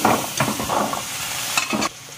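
A spoon scrapes and stirs chickpeas with mango powder in a pan over a low gas flame for chana chaat, giving a few close, loud strokes with light sizzling and no talk.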